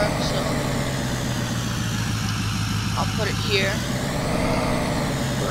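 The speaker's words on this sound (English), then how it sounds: "this is my truck, so" A truck engine idles steadily in Farming Simulator 19, a low, even rumble that runs throughout while someone talks over it.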